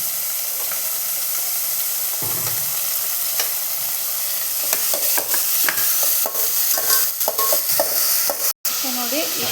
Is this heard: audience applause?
no